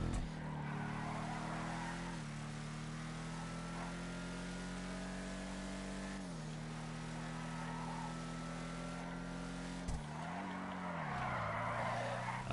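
A muscle car in the racing video game GTA Online roars along at steady high revs, tires squealing and skidding in long stretches, with gear shifts and a burst of acceleration near the end, no talking over it.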